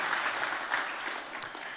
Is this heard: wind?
no